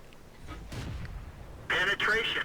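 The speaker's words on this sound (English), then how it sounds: "I'm going to keep firing my gun." An M5 Stuart light tank's main gun fires in a tank battle video game, one muffled booming shot early on, with someone talking loudly shortly after.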